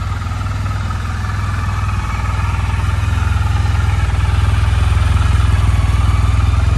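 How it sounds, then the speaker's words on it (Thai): Suzuki Burgman 650 ABS scooter, a 2019 model in matte black, idles steadily nearby with a low, even exhaust thrum and light mechanical clatter, rising slightly in loudness toward the end, with no talking. "เดี๋ยวจะให้ฟังเสียงท่อไอเสีย"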